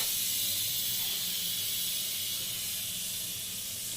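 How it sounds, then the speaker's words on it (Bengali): Oil poured into a hot wok for frying pabda fish gives off a steady, loud, close hiss that holds evenly for several seconds and fades slightly toward the end. "কড়াই গরম হয়ে গেছে, এই অবস্থায় আমি তেল দিব"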